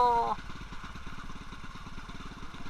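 An old stock motorcycle engine runs at a low idle, close and steady, with a rapid, even thumping pulse and a bit of mechanical clatter after a short tonal sound at the very start.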